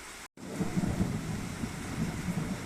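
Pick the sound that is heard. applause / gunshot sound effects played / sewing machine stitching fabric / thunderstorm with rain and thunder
thunderstorm with rain and thunder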